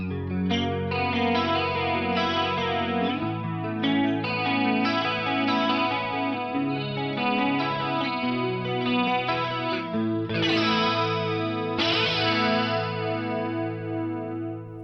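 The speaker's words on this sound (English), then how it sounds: "the chorus ensemble, like I said, is mono in, and then it's got 2 outputs" Guitar chords through a chorus ensemble effect on a Fractal FM9, mono in with two outputs, ringing loud and shimmering with wavering modulation, played steadily alone with new strums near the start and end.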